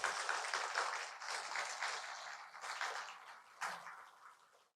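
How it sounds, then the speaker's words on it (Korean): A church congregation applauds in a sustained burst of clapping that keeps steady for several seconds, with a few sharper swells, before thinning out and fading at the end. "고맙다고 한번 박수 한번 쳐."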